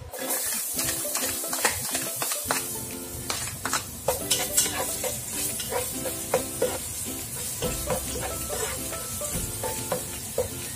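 Garlic frying in a pan until golden brown, a steady close sizzle with repeated scraping and stirring clinks throughout, no voices.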